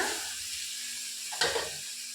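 Ground mint and fenugreek leaf paste stirred into a hot frying pan gives a steady soft sizzle, then a sudden louder hissing burst as it hits the oil, with no talk.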